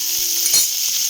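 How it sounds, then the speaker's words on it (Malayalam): Chopped ivy gourd sautés in a hot pan with a steady, close frying sizzle, broken by a few brief scrapes and knocks as it is stirred. "ഈ കോവയ്ക്കയിലേക്ക് എല്ലാം ഒന്ന് മിക്സ് ചെയ്ത് ഒന്ന് വഴന്ന് വരട്ടെ."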